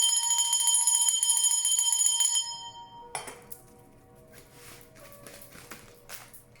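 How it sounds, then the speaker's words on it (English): A hand bell rings in a bright, sustained metallic tone for about two seconds, then stops; a softer jangling clink follows and scattered faint rattles trail off quietly. "right after I rang the bell for the number 111"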